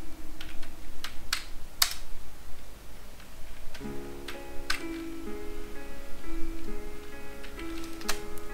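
Computer keyboard typing of names in Microsoft Word, a run of close, crisp key clicks at an uneven pace, with a steady faint tone underneath in the second half.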